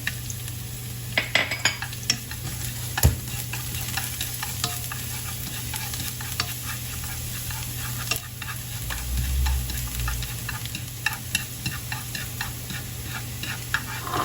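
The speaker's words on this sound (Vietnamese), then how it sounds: "Bạn xào bạn thấy cái tỏi nó hơi săn lại" Minced garlic stir-frying in a little olive oil in a pan, a steady close sizzle with frequent scraping and stirring clicks of a utensil against the pan, no talking.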